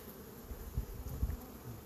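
Carniolan honey bees buzz at a busy hive, a soft, steady drone with small swells of louder buzzing as individual bees pass near.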